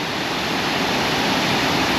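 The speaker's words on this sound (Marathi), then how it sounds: "उंचावरून आता हे पाणी पडते तर त्याचा प्रवाह खूप जास्त आहे" The Savdav waterfall near Kankavali in Sindhudurg roars continuously as a heavy flow of water drops from a height, a loud, close, unbroken rushing wash with no voices.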